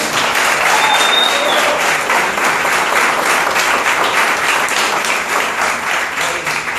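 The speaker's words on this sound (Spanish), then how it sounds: "vamos a recibir con otro aplauso, pero más eufórico" A large audience at a DXN company event in Sincelejo, Colombia claps and cheers to welcome the company's manager for the Americas. The applause is loud, dense and sustained for the whole stretch, with no talk over it.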